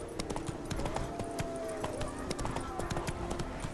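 Roach, a horse in The Witcher 3, gallops with quick, steady hoofbeats under continuous spoken voices, the clip-clop staying close and rhythmic throughout.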